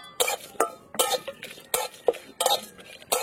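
Cumin, dried red chillies and whole garam masala dry-roasting in a pan, heard as a series of sharp scraping and stirring strokes, about seven distinct clattering bursts at close range with no talk.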